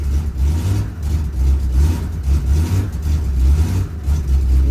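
Engine of a 1967 Chevrolet C10 pickup running steadily just after a cold start, a loud, close, low rumbling idle with slight rhythmic pulsing and no talk.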